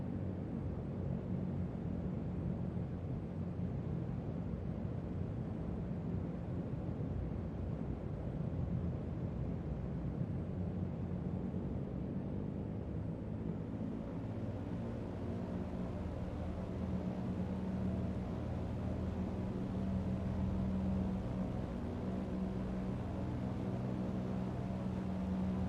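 A Lockheed Constellation's piston engines drone in a flight simulator, a low, steady rumble that holds evenly for the whole stretch with no cockpit sounds or voices.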